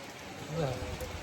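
Rain falls outdoors during a trip on the Ratnagiri coast, a soft, continuous hiss of drops striking surfaces, with a faint voice briefly rising in the middle.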